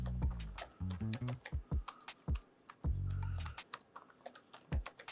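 Password being typed on a computer keyboard during virtual machine setup: a rapid, irregular run of close, crisp key clicks and heavier thumps lasting several seconds, with no voices.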